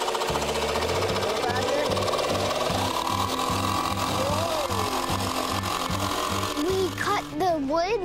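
A jigsaw cuts wooden rocket fins with a steady, rapid buzzing stroke that continues loud and close for most of the stretch, then gives way to voices near the end.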